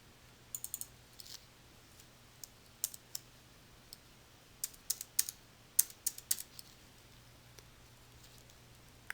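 Quiet, irregular bursts of keystrokes on a computer keyboard, clustered in short runs with pauses between, close and faint, no voices.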